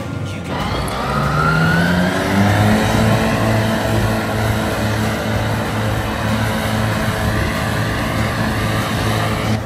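A tractor engine drones steadily while mowing grass, a loud continuous rumble with a slowly rising pitch and constant mechanical hum, no voices.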